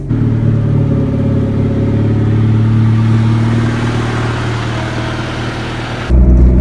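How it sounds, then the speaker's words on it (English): A low, steady exhaust drone from a Honda Civic EK hatchback fills the cabin at cruising speed, with a deep hum that shifts slightly near the end. "you can still hear the exhaust"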